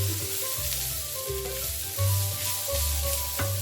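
Food sizzles steadily in a hot cast iron skillet, a continuous close frying hiss with brief swells and no one speaking.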